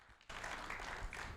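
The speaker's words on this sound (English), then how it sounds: "Come on, another round of applause." After a brief hush, a conference audience bursts into full clapping for a keynote speaker at an African smart cities event, a dense, steady wash that carries to the end.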